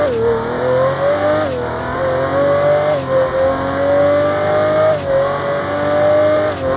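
A powerful V12 car engine in the racing video game Apex Racer revs hard and holds a high, smooth whine, dipping briefly between gear shifts before climbing again.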